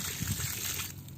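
Water splashes and trickles steadily onto shallot bed soil close by, a continuous wet pouring sound that eases off near the end.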